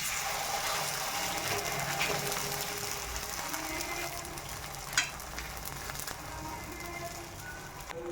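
Paruppu poli, a sweet lentil-filled flatbread, frying on a hot griddle coated with oil, giving a soft continuous sizzle with faint clicks and one sharp tap partway through; no talking.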